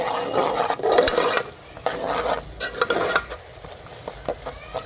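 Turmeric, chilli and salt being stirred into a pot of pakora kadhi: close, uneven scraping and stirring with a faint sizzle beneath and occasional clinks of a spoon against the pan.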